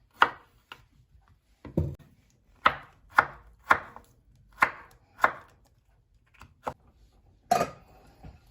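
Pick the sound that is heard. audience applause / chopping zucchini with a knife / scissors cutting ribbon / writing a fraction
chopping zucchini with a knife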